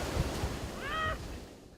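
Ocean surf washes in a soft, continuous hiss and rumble with some wind noise, and a faint high whine briefly rises over it.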